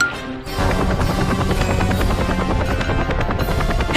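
A helicopter's rotor thumps in a fast, steady rhythm, loud and close, starting abruptly after a brief quieter moment.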